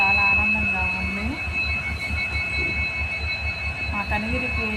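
A train pulls into a small-town railway station at Kanigiri, its wheels and cars rumbling in a steady loud rhythm with high, drawn-out wheel squeals and crowd noise around the platform.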